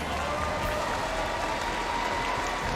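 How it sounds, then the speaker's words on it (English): An esports crowd at the M5 World Championship knockout stage applauds a team after the grand final, a steady wash of clapping and crowd noise with a faint voice underneath. "give Onyx a big round of applause"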